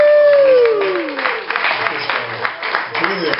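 An audience at the Beachfoot 2016 gathering applauds, broad clapping swelling at once over a fading whistle-like tone and then carrying on steadily for a few seconds.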